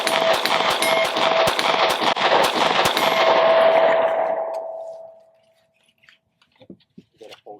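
Glock 43x pistol fired in a rapid string of shots at a target, loud sharp reports in quick succession that trail off into ringing, followed by a few faint handling clicks.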